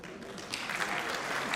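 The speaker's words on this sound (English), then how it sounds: "Let's give him a big round of applause." Audience applause at an engineering federation awards and dinner night, a steady wash of many hands clapping that swells slightly louder after the first half second and continues throughout.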